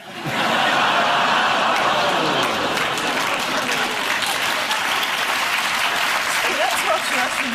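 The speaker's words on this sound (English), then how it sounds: "They're applauding the death now of Winehouse." A studio audience on a TV panel comedy show breaks into loud, sustained applause mixed with laughter and a few whoops, a full crowd roar that carries on for several seconds.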